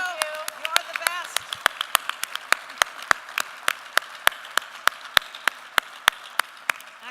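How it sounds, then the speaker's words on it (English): An audience at an investor summit applauds the planning committee with scattered, crisp handclaps that build into a steady patter of applause, while a voice talks over the start. "give you a great big round of applause"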